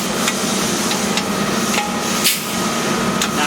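A hand hole punch tool bites through steel on a car floor panel for plug welds, giving several sharp metallic clacks at uneven intervals over a loud, steady background hiss.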